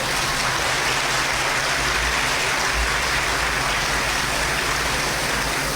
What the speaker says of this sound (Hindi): एक बार आप लोग ताली बजाकर सर का स्वागत करिए।